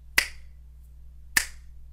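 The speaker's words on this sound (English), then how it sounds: "I'm going to snap this twice" Two sharp, close finger snaps sound about a second apart, crisp and isolated against near silence, used as a sync marker for a smartphone microphone recording.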